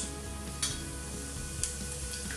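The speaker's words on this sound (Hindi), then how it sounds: "अब हम उसमें 1/2 छोटा चम्मच राई डालेंगे, 1 छोटा चम्मच जीरा डालेंगे" Mustard seeds and cumin sizzle in hot oil in a pan, a steady soft hiss with a couple of faint pops and stirring sounds, heard alone with no talking.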